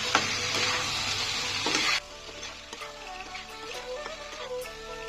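Boiled taro stolons stirred into spices in a hot pan for a curry: a loud, dense sizzle for about two seconds, then a quieter stretch of faint scraping and light clinks.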